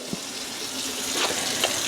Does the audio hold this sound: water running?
yes